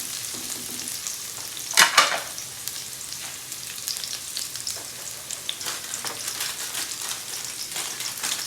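Garlic fries in a pan for Filipino pork dinuguan with a steady close sizzle and a brief louder burst of stirring near the start, then constant crackling with no voices.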